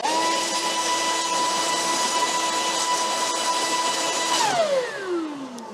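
A Makita XGT cordless handheld leaf blower runs at a steady, loud, high-pitched whine with a rushing airflow roar, then spins down smoothly as it shuts off near the end; no voices.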